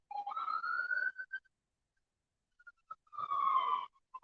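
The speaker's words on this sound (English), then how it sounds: "Ah, sirens. I'm right next to the freeway." Sirens from a nearby freeway rise in two faint, wavering wails separated by a quiet gap, heard at a distance.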